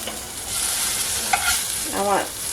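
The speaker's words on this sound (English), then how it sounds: "we are just cooking the onions till they're soft and translucent" Onions and tomatoes cook together in a hot pan with a close, steady sizzle and a few stirring scrapes; there is no talking.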